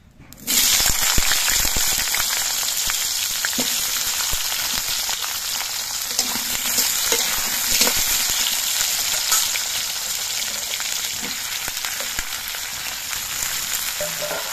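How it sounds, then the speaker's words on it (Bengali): A loud burst of sizzling as potatoes and beans hit hot oil in a kadai, then a sustained, dense frying crackle close by, without talk. "এবার কড়াইতে যে তেল আছে এই তেলের মধ্যে আমি আলু আর শিমগুলো ভেজে নেব।"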